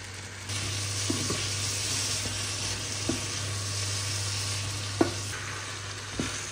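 Prawn curry reheating in a pan gives a steady, moderate sizzle with a low hum underneath and a few soft scrapes and clicks of stirring, with no voices.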